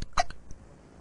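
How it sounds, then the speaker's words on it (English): A cartoon hiccup from an animated boy in a hospital scene, one sharp squeaky burst with a short trailing echo, then near silence. "This is the worst case of hiccups we've ever treated."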